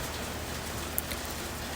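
Steady rain falls through the night, a soft, even wash of drops with no talking and one tiny tap near the middle.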